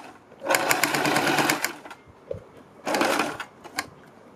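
A sewing machine stitches a neck design on a kurti in two short close bursts, about a second each, with a brief gap and a soft thump between them.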